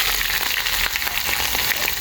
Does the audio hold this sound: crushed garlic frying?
yes